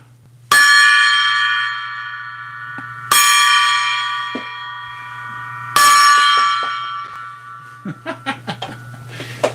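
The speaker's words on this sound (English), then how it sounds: "300 thumbs up means 3 rings of the gong." A gong struck three times, each loud ringing crash sustaining and slowly fading before the next, with a low steady hum underneath and brief chuckles of laughter after the last strike.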